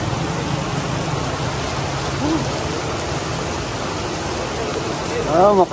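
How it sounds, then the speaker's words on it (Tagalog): Heavy rain pours down steadily as a dense, loud, constant hiss, with a voice briefly speaking near the end. "Tumihina na yung ulan."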